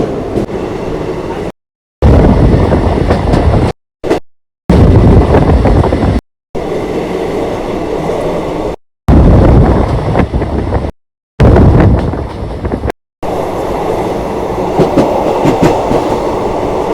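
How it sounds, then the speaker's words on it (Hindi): A passenger train runs along a Rajasthan line near Chanderia railway station, its loud rumble and wheel clatter carrying on steadily close to the microphone with wind buffeting, broken by several brief silent gaps. "आप देख रहे हैं चंदेरिया रेलवे स्टेशन पर इस ट्रेन का"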